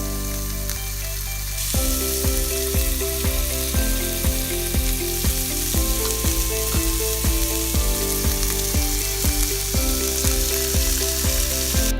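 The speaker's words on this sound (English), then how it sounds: "So you can hear this nice sizzling." Loud, continuous sizzling and crackling of Kobe wagyu beef frying in a hot pan, with rhythmic clinks of a utensil over the hiss.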